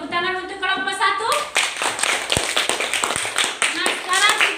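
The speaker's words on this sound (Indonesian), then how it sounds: "Tepuk tangan untuk kelompok 1" A classroom of students claps for group 1 after a presentation, starting as a dense burst of applause that carries on steadily, with voices and a teacher's speech mixed in at the start.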